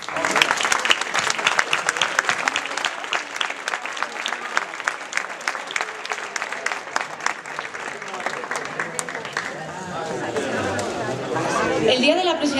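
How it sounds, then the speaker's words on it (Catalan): Audience at a political campaign rally in Riola claps in sustained, dense applause for over twelve seconds, steady and loud, with crowd chatter mixed in and the clapping thinning toward the end. "vos demano avui un aplaudiment"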